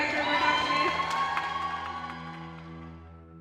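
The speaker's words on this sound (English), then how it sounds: "Round of applause for our director" A crowd cheers and claps at an event, a short, fairly loud mix of whoops and shouts over clapping that gradually fades, with voices mixed in.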